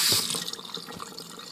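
Water from a tap runs steadily through a fine mesh strainer as almonds are rinsed for homemade almond milk, with a bright splashing hiss up close.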